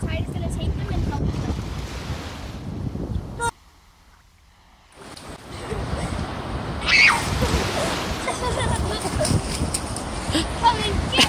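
Ocean surf at Ruby Beach, Washington, with steady loud wave wash and wind rumble, broken by a brief near-silent gap before the roar resumes, while people talk over it.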